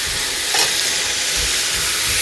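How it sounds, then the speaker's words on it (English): Tomato paste and diced tomatoes hitting a hot pan and stirred, a loud, dense sizzle and steamy hiss held steady throughout, with soft scraping of the stir underneath. "And in goes tomato paste and about half of a can of diced tomatoes"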